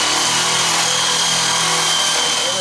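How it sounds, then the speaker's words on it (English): A power drill bores a bolt hole through a wooden beam on a railing over stone steps, its motor whining loud and steady at close range for the whole stretch. "I'm drilling my hole"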